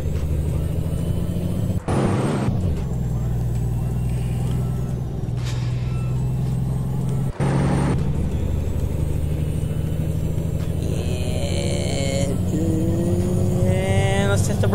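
Bus air brakes in American Truck Simulator: two sharp hissing air brake bursts over a steady low engine drone, followed by rising whining tones from the idling vehicle, with no talk.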